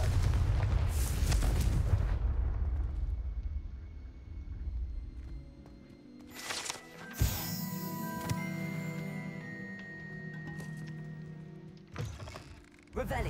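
Confringo fire spells blasting in the video game Hogwarts Legacy, a few loud booming bursts with crackling tails set against background game music, with a voice in the scene.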